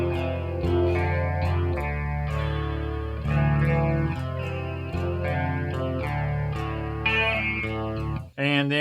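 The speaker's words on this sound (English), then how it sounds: "So if we want a little chorus, all I got to do is hit that." An electric guitar plays through a Soldano SLO Super Lead Overdrive pedal with chorus switched on, giving shimmering, warbling sustained chords and notes, heard close and clear, with a brief break near the end.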